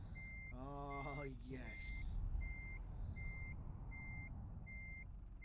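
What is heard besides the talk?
truck reversing beeps while backing a trailer in video game Euro Truck Simulator 2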